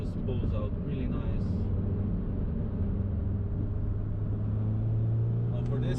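A 2nd-generation Audi TT 8J being driven on a road as it shifts into third gear, the engine a steady low rumble heard from inside the car with the drone rising slightly in pitch, with a few faint clicks.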